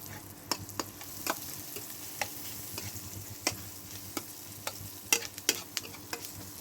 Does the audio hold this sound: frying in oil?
yes